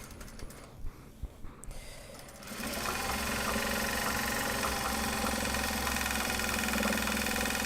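A sewing machine stitches Japanese fabric project bags, starting after a couple of seconds of quiet and then running steadily and loudly at a fast, even whirring pace to the end.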